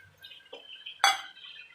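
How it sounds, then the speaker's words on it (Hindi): Ginger-garlic paste thinned with water hits hot ghee and browned mutton in a karahi, giving a brief splashing hiss amid soft clinks of the pan, close and fairly quiet. "अब हम इस टाइम पे डालेंगे अदरक लहसुन का पेस्ट पानी शामिल करके"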